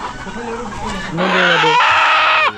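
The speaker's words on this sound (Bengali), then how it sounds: "এই যে মুরগি ডিম পারছে" Desi hens on a Saudi hillside poultry farm cackle while laying eggs, a loud rising squawking run near the microphone that swells midway and cuts off at the end, with some talk mixed in.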